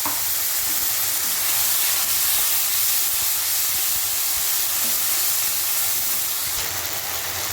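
Spice paste hits fried onions in a hot pan for a Bengali fish curry, producing a loud, continuous bright sizzle and hiss that holds steady throughout without talk.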